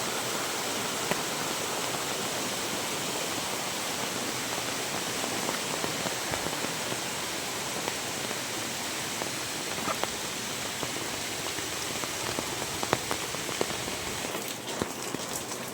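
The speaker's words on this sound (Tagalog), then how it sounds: "Naabutan pa tayo ng ulan." Steady, dense rain falls outdoors on a trip to farmland, a continuous even hiss with scattered close drops and no talking.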